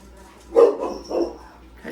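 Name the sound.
dogs barking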